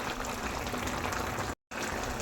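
Vegetable curry with fish, prawns, fish head and bori simmers in a covered pot on the stove, giving a steady, dense bubbling hiss with a brief dropout near the end.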